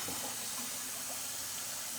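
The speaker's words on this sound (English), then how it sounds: "I always like cold water in my rice, and the reason why I start with cold water is you want to always clean your rice before you use it" Cold water runs over rice being rinsed, a faint, steady hiss of flowing water with no other sounds.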